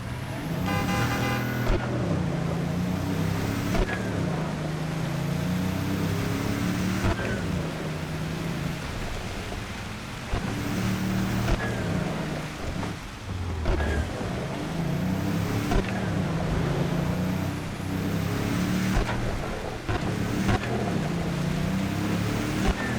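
A Porsche car drives in Cyberpunk 2077, its engine droning steadily throughout with shifting pitch as it accelerates and changes gear, plus occasional whooshes and game sounds layered over it.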